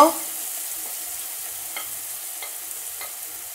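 Curry leaves, chopped onion and asafoetida fry in oil in a pan for misal, giving a steady, fairly loud sizzling hiss with light scattered crackles and no talking.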